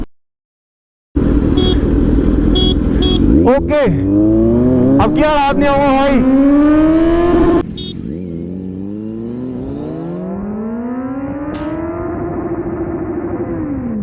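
A 948cc motorcycle in sport mode launches hard in a drag race, revving loudly and climbing through gears with sharp shifts, then settling into a long rising engine note further off, while someone speaks briefly over it.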